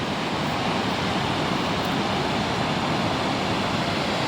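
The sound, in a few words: waterfall rushing water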